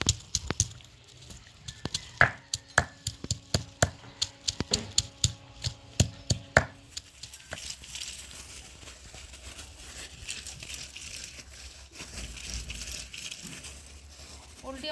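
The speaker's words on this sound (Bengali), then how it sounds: "রাখা ওলগুলো আমি শিলনোড়াতে ভালো করে বেটে নেব।" Elephant foot yam is crushed on a traditional grinding stone, giving a burst of sharp irregular knocks and scrapes that fades into softer grinding noise, close and moderately quiet.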